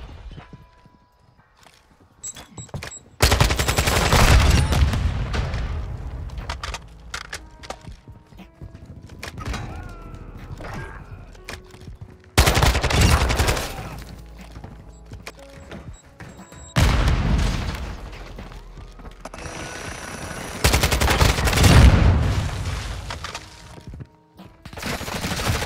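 Kastov 545 AK assault rifle fire in a video game, in loud bursts of rapid automatic shots separated by short pauses, with no talking.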